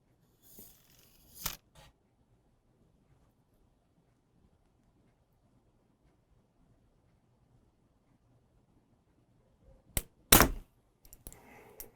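A compound bow set to about 50 pounds is drawn with faint rustles, held through a long quiet stretch, then released with a sharp, close snap followed by brief rattling.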